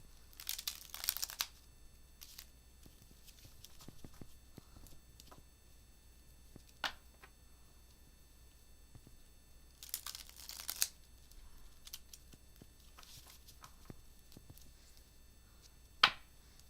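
Two bursts of rapid riffling cards, one at the start and one midway, with scattered soft taps and clicks between them in a quiet room.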